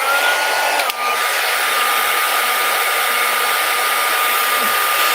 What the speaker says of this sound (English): I'm going to use my heat tool again.